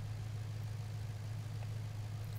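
Audi 80 B2 engine idling in the City Car Driving game, a low steady hum held at a constant faint level with no other sounds.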